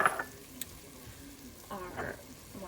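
Spoon stirring a brisket sauce of cayenne and garlic in a pan, soft scraping and faint sizzling strokes in short bursts, fairly quiet with some low talking.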